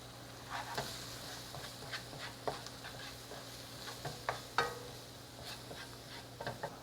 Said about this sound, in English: And stir that together until it makes a paste.